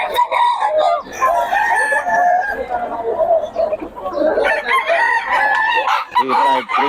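Chickens and roosters at a market in Bocaue, several birds crowing and clucking loudly and continuously, with some background chatter mixed in.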